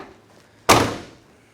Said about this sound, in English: gotta slam these doors, they're heavy.